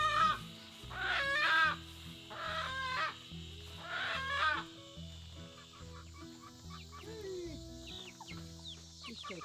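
A newly acquired chicken flock clucking and chirping in repeated loud bursts, then softer scattered peeps, over a low rhythmic background hum.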